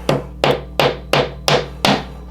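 Six sharp taps of a metal Allen wrench on a 3D-printed dollhouse part, struck against a table in a steady rhythm about every third of a second, close and clear, with a low steady hum underneath.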